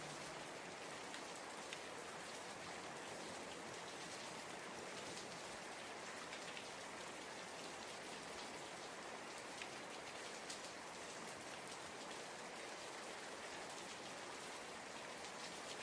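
Steady rain falls without pause, a dense, even hiss of drops on surfaces that stays soft and constant throughout.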